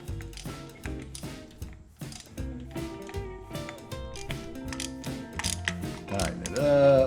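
A socket ratchet clicks in quick repeated bursts while tightening a bolt in a tight spot on a 440 engine under restoration, close up with metallic clatter and no speech.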